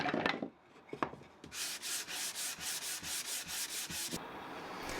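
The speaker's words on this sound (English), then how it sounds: "Because I'm using planed battens, there isn't much sanding to do on these, so a quick hand sand is all they need." Planed wooden battens are hand sanded in a steady run of about ten rhythmic back-and-forth strokes, a close, dry rasping with a few knocks before it starts.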